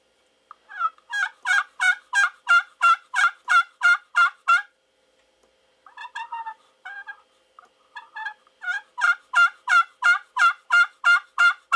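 A copper slate turkey call scratches out a run of clear, rhythmic yelps, pauses for a few softer, broken notes, then resumes another steady series of yelps.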